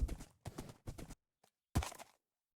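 Horse riding in the Minecraft video game, four short bursts of clopping hoof steps close by, separated by brief silences.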